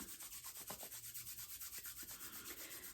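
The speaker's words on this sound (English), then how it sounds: "Put your hands together, palm to palm. Just rub them together, creating some friction, creating some heat." Palms rub together quickly in a steady back-and-forth rhythm, a soft, close, whooshing friction sound repeating evenly throughout.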